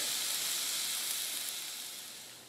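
Vegetarian sausage patties sizzle steadily in a hot pan, a continuous bright hiss with no talk, tapering slightly toward the end.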